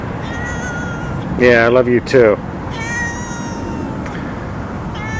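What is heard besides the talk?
cat meowing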